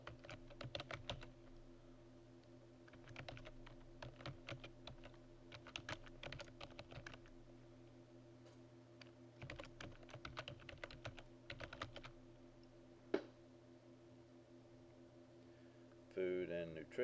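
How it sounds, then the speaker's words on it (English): Keys clatter on a computer keyboard in irregular bursts of typing with pauses between runs, quiet and close against a steady low hum, with one sharper click near the end. "we're going to type this information"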